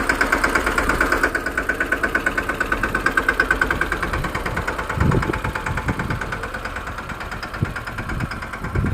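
A brand-new diesel tractor engine, just started, idles nearby with a rapid, steady chugging rhythm, joined by a few thumps and knocks partway through.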